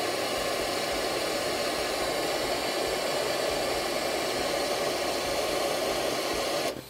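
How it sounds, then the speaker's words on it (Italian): A steady, loud rush of blowing hot air runs continuously, like a heat gun or hair dryer, heating an Audi/VW thermostat valve until it opens, then cuts off abruptly at the end. "Ora la vado a scaldare brutalmente, basterebbe un phon, ma io vado proprio di cattiveria"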